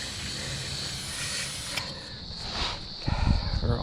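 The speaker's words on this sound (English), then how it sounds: "this one here is using the Motol chain wax, chain grease, which sticks very good" An aerosol of Motul chain wax sprays onto a motorcycle chain in a steady close hiss that runs throughout, ending with some louder low-end handling noise.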